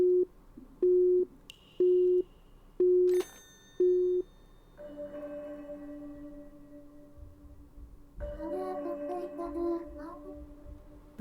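In Schrödinger's Call, a phone busy tone repeats five times at an even pace after a call cuts out. Sustained synth tones and brief chimes follow once the beeping stops.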